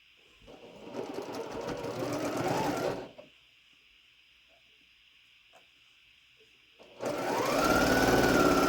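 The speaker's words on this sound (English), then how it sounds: "we're going to sew these top 2 together" Sewing machine stitching quilt pieces together for a star quilt, two close bursts of running with a quiet pause between, the second starting strongly and continuing to the end.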